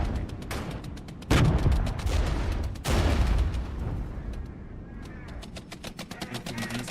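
Cluster bombing in the war game Regiments: two heavy, booming blasts land about a second and a half apart, each rumbling away, with scattered smaller impacts and faint background noise in between.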